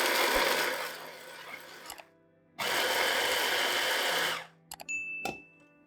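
Food processor pulsing fresh chili and garlic for Thai sweet chili sauce, several loud motor bursts with short pauses between them, ending in brief clicks and stops.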